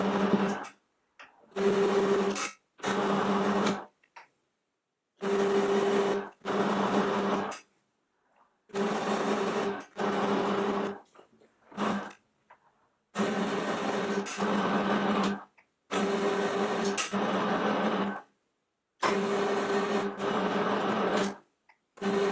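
Metal lathe single-point cutting a 22mm by 1 thread, running in repeated bursts of a few seconds each with short silent pauses between passes, a steady whirring machine tone throughout.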